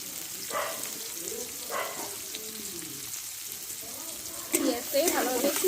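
Chopped onion tipped into hot oil while fried green chillies sizzle, a steady close frying hiss that swells louder as the onion goes in, with a voice talking over it.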